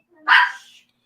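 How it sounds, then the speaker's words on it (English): A single sharp bark from a small dog, loud and close, lasting well under a second with no other sound around it. "that little dog barks at its own shadow"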